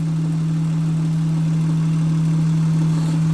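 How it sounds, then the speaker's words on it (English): A Honda car engine with an aftermarket intake idling, a loud, steady low hum with a constant droning tone and no change in revs, heard alone without voices. "You made a car that sounds like a race car."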